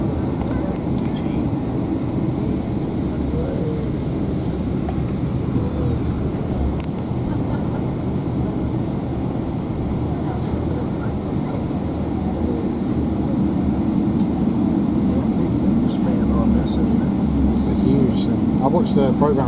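An American Airlines Boeing 777 on its takeoff run at Dallas Fort Worth gives a steady, loud, low engine roar throughout, heard from inside the cabin, with passengers talking under it.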